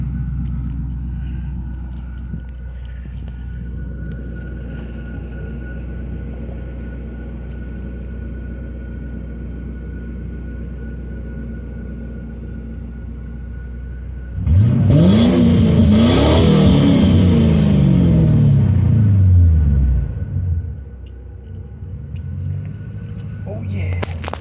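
A 1994 Ford Thunderbird LX with its muffler removed fires on a cold start with a loud, raw roar and revs for several seconds, then drops back to a rumbling idle, after an opening stretch of low idle and quiet background sounds.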